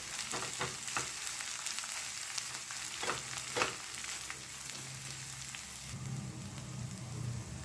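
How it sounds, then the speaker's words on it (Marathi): Crushed garlic and ginger sauté in hot oil for a potato and mint dish, giving a steady close sizzle broken by a few sharp stirring clicks, with a low hum rising near the end. "लसूण आलं हे ठेचून घालते. हे छान परतून घ्यायचं आहे आपल्याला तेलामध्ये."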